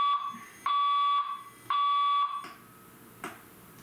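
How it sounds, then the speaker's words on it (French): A building fire alarm system sounds during a test, giving two loud, piercing electronic tones of about half a second each, separated by brief gaps, followed by quieter room sound and a faint knock. "il y a des tests encore d'alarme, de système d'alarme"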